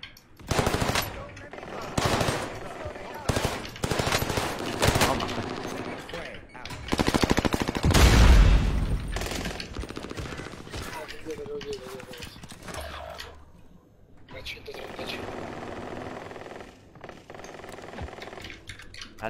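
Gunfire in a horror video game, bursts of rapid automatic shots and single cracks scattered across the stretch, loud and close, with people talking over much of it.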